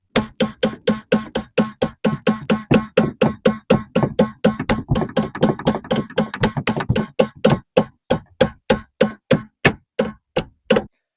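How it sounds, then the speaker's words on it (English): A hammer strikes a bent bracket on the underside of a crash-damaged Volvo S60 to straighten it, repeated sharp metallic blows in a steady fast rhythm, close and loud, continuing for about eleven seconds without talk. "If in doubt, just use a hammer."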